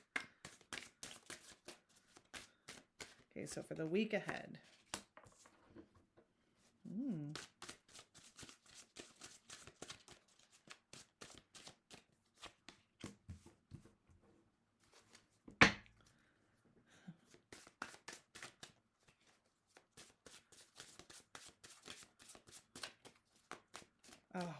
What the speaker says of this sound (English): I think I'll shuffle and then pull so that they're good and mixed.